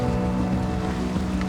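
Rough open Pacific Ocean waves wash around a sailboat underway, a steady loud rush of water and hull noise with a low droning hum running throughout and no pauses.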